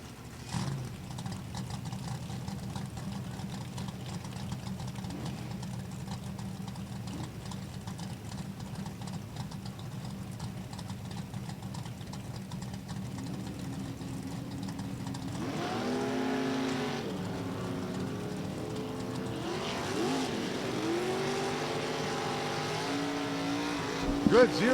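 Drag race cars idle and rumble at a raceway, a 1994 Lumina with a 548 cubic inch engine and a 1966 Chevy with 555 cubic inches, building into loud revving with rising engine tones near the end.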